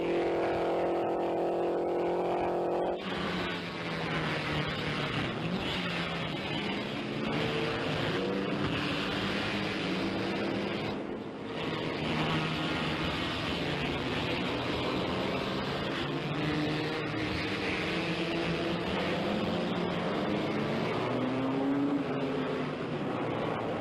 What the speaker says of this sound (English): Daigh in front with Hill, still fighting it out through the S-curves and up the hill into turn 6